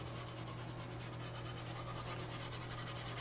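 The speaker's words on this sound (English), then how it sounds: "I'm just going to kind of lightly lay this down and just rub the edges of the" Steady, faint rubbing of a craft transfer being pressed down along its edges, a soft continuous scratchy friction with no pauses and no talking.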